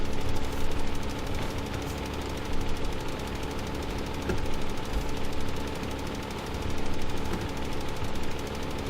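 A tractor engine in Farming Simulator 2015 runs at a steady idle, a continuous knocking mechanical drone with a slight rhythmic throb, loud and unbroken throughout with no talk.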